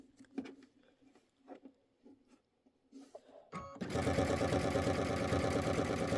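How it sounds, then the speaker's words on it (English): After a few quiet rustles, a sewing machine starts up and runs continuously, stitching quilt fabric pieces together with a close, steady, fast mechanical whir that stays loud to the end. "so I'm just sewing these together."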